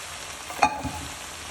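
A spoon stirs black-eyed peas into chopped banana flower simmering in a pot, making a single short wet scrape and clack with a soft bubbling sizzle underneath.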